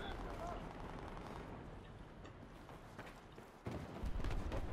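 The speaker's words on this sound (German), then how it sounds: "von wo kommen die Schüsse?" Muffled gunfire crackles in rapid bursts with booming impacts, growing louder toward the end, while a voice talks over the noisy Battlefield 4 battle.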